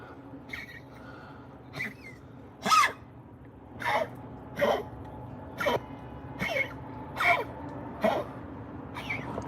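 A dog named Lois coughs repeatedly, about eight short rasping bursts spaced roughly a second apart over a faint low background hum, close but not loud.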